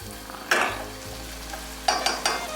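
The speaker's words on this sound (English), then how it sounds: "we're cooking on like medium, so that we can really get a nice sizzle there, a nice saute" Food sizzles and crackles in a pan over medium heat, with a few louder bursts as it's stirred and scraped, steady frying underneath.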